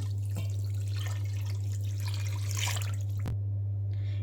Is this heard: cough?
no